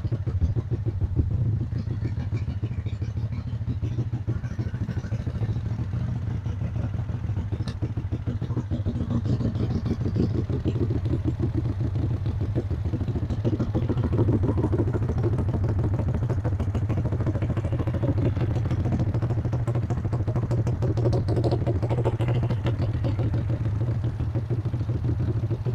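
Two GY6 scooter engines idle together on a vacuum-fed fuel system with OKO carburetors, a steady, close, low chugging rumble with light mechanical clatter that holds unchanged throughout, with no voices.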